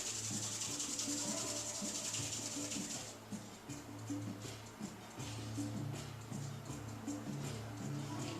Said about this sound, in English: Rub our hands a bit.